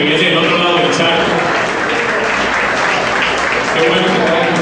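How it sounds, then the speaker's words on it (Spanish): A church congregation at a service gives a loud, continuous round of welcoming applause for a visitor. The clapping is thick and even from start to finish, with voices murmuring beneath it. "vamos a dar un aplauso de bienvenida a Osmani"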